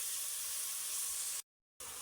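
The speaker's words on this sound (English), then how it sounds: "So we let this cook until we have a paste like a tomato paste like texture." Tomatoes cook down into a paste in a pan for a minced meat dish, giving a steady, faint hiss and sizzle that breaks off briefly near the end and then resumes.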